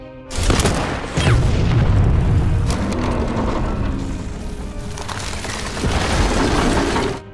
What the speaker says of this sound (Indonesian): Igora pun menggunakan senapan Scott untuk menembak mortir sebelum tank-tank Jerman berhasil melewatinya.